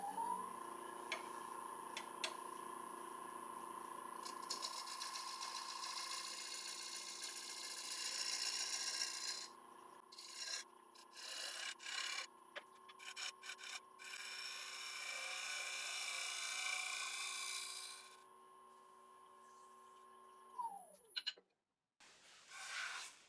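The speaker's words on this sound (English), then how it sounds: "I just used the little shear scraper, just cleaned it up really nice." A small 1-inch shear scraper tidies the underside of an elm bowl spinning on a wood lathe, a steady high whine and hum with light scraping for about twenty seconds before the lathe spins down and stops.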